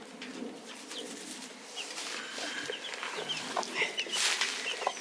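A chicken stuck behind a door squawks and clucks repeatedly in short, irregular bursts, fairly close and growing louder toward the end, with no talking.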